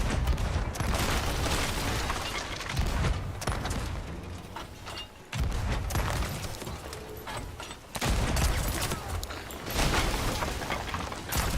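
Fireworks exploding in a video game, rapid crackling bursts and booms in several dense waves separated by brief dips, loud and close.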